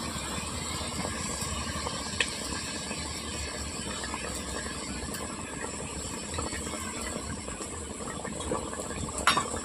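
Rohu fish kalia curry with mustard paste bubbling in a pan, a steady close simmering hiss and crackle with faint occasional clinks, no voices.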